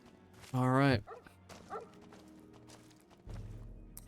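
A dog in the video game Fallout 3 gives one loud, close bark, followed by softer whimpers and small yips, with someone talking nearby and game sounds underneath.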